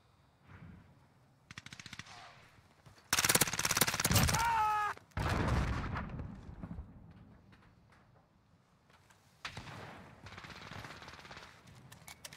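Bursts of automatic FN SCAR rifle fire in a video game, a loud rapid volley in the middle and shorter scattered shots before and after, some distant, with quiet gaps between.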